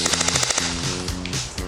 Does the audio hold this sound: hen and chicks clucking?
no